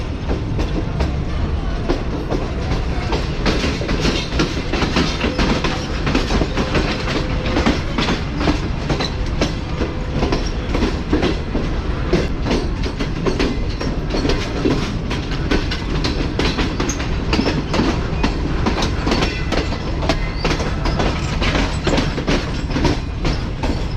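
The Tezgam passenger train running on rails, heard from on board as a constant loud rolling roar with dense, rhythmic clickety-clack of wheels over rail joints throughout.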